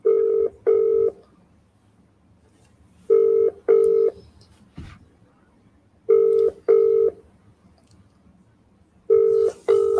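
Repeated pairs of telephone ringback tones pulse at regular intervals, fairly quiet with faint background hiss between rings.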